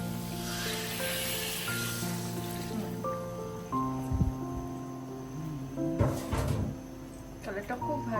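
Boiled water is poured into a hot pan of soybean chunks and gives a sustained hiss and bubbling, with sputtering bursts toward the end and a steady tone underneath.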